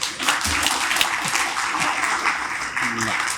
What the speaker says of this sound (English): if you'll all give our new board chair a big round of applause